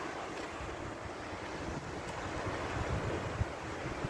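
Strong ocean waves crash and roll against a rock formation at Pangil, Ilocos Norte, with gusty wind buffeting the microphone in a steady, loud roar throughout.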